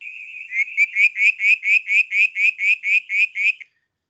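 A rapid series of about a dozen bright, upward-sweeping whistled notes from a whistling tree frog, evenly spaced and loud, sounding close, after a brief steady tone.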